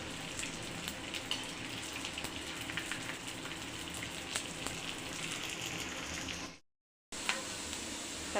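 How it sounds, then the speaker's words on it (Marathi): Edible gum (dink) frying in ghee for methi dink ladoo, a soft continuous sizzle with light crackles, fairly faint and close, briefly cut to silence near the end. "आणि डिंक मस्त असा तळून घ्यायचा"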